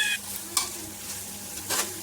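Chilli powder and spices frying in a pan for chicken sukka, a soft steady sizzle broken by a few brief stirring scrapes, close and fairly quiet.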